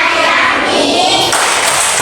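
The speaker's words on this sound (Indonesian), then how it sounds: "Tepuk anti bullying" A group performs an anti-bullying clap chant, dense clapping and voices blending into a loud, continuous wash of applause-like noise throughout.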